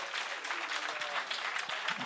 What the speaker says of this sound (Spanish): Denle su mejor aplauso, por favor